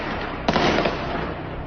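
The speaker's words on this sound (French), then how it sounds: "Ils ont alors tiré à nouveau." A gunshot fired again in a Rennes street during a shooting, a single sharp, loud crack that rises abruptly out of the steady street background before fading.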